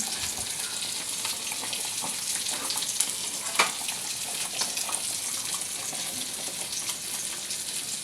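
Fish pieces frying in a spiced masala give off a steady hiss and bubbling sizzle, broken by a few soft stirring clicks, moderately loud and close, with no talk.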